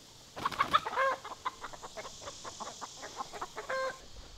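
Chickens cluck close by on a farm, giving a scatter of short, irregular clucks and squawks with brief louder bursts between quieter moments.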